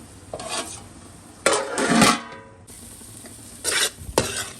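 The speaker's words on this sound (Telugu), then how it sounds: "ఇలా బాగా ఒకసారి మిక్స్ చేసుకొని ఒక 5 minutes ఫ్రై అవ్వడం" Masala fries in a pan for fish curry, a steady sizzle broken by several loud scraping stirs of a spoon against the metal, close and without talk.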